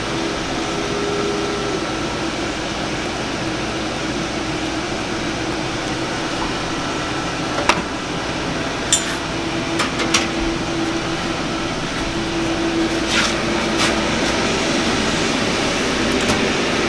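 A print dryer's fan and conveyor belt run as a steady, loud, broadband roar with a faint hum, while a few sharp clicks and taps sound over it near the middle.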